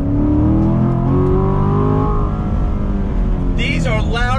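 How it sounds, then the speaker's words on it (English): A C7 Corvette Grand Sport with a 7-speed manual drives with its loud exhaust up close, the engine note climbing and pulsing, then settling into a steady rumble. "It's just something with the exhaust. It just pulsates through your body."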